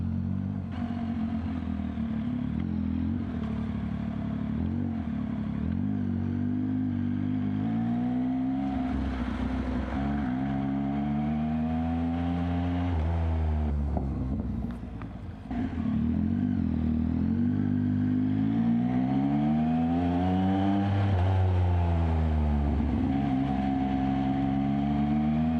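A naked-style motorcycle being ridden, likened to an MT-09, its engine revving hard with rising and falling pitch sweeps through gear changes, loud and continuous for the whole stretch with no talk.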